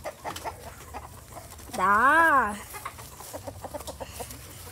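Chickens at a rural home cluck in the background while someone talks, and one bird gives a loud, drawn-out tonal squawk that rises and falls over about a second, close to the listener.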